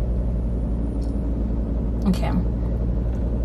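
A car's engine runs with the air conditioning switched on, giving a steady low rumble and hum throughout. A person speaks briefly over it partway through.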